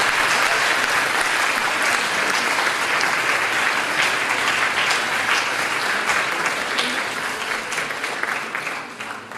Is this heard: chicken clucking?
no